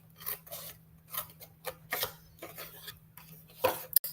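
Scissors snipping a paper craft template for a Halloween project, a series of short crisp cuts in uneven rhythm, close but quiet, with a low steady hum underneath.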